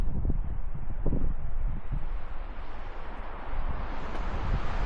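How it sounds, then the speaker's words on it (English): Strong wind buffets and roars across the microphone in continuous gusty rushes, loud and unbroken throughout, on an open hillside at Garnet Hill, Nevada. "Whoa, that is windy."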